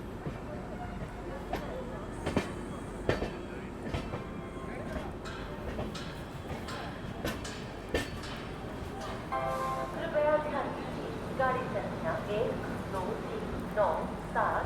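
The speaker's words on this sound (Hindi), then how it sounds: "फिलहाल पंडित दीनदयाल उपाध्याय जंक्शन अपनी ट्रेन पहुँच चुकी है।" Mahabodhi Express standing at a platform of Pandit Deen Dayal Upadhyaya Junction, with steady station rumble, scattered metallic clanks and clicks, and a murmur of voices in the background.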